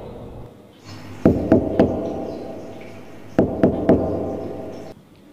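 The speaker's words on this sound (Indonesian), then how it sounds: "pintu depan saya seperti ada yang mengetuk." Someone knocks on a front door in two bursts of three firm raps with a pause between them, the knocks sounding close and hollow against a quiet room hum.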